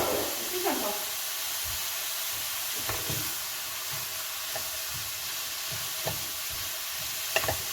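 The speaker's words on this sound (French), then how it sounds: "Je vais verser la moitié des lardons. Moi je prends des lardons fumés." Smoked lardons frying in a pan, a steady hiss of sizzling fat with occasional stirring scrapes and soft clicks, moderately close and continuous throughout.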